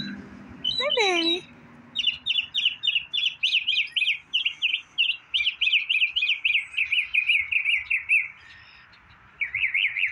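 Mockingbirds sing outdoors with rapid, repeated high chirping phrases delivered in quick bursts, loud and close, broken by short pauses, after a brief swooping call near the start.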